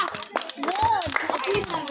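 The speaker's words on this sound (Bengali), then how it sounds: "হাততালি সবাই।" Children clap in a burst of scattered, uneven hand claps during a bottle-dribbling football game. Kids' voices and an adult voice talk over the clapping.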